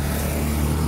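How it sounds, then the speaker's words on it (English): A tuk-tuk engine in Ao Nang, Thailand, gives a brief, close, steady buzzing drone with a low hum. "So that's the typical tuk-tuk they have there."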